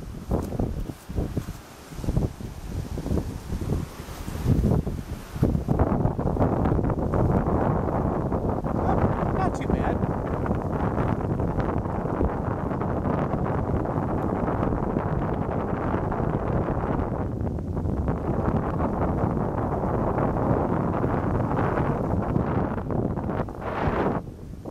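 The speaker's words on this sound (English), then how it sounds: "pretty windy today, as you can definitely tell." Strong gusts of wind buffet the microphone outdoors by the Au Sable River near Mio, Michigan, producing a heavy, continuous roaring rumble that swells and dips, with a person briefly speaking at the start.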